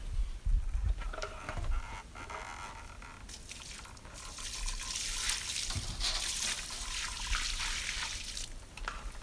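Water is poured onto hard, dry dirt at a building site, a steady splashing and trickling wash that runs on for several seconds, close by, with a few heavier thumps at the start.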